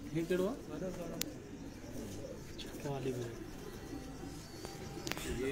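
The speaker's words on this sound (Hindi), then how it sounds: "ये छत वाले कबूतर हैं जी, मास्टर अब्दुल्ला वाला।" Rooftop pigeons coo repeatedly, a few close, rolling calls rising and falling across the stretch, with sharp clicks and scattered softer coos behind them.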